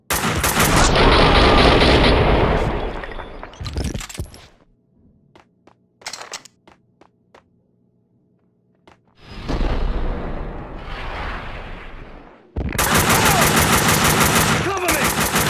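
Heavy automatic gunfire from the Max Payne 2 video game comes in loud sustained bursts, separated by a quieter stretch of sparse single shots and clicks.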